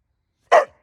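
Luna the dog lets out a single short, loud bark up close, dropping into a brief whiny tail.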